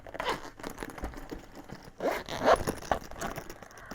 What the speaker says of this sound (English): So in this front compartment, also double zip closure.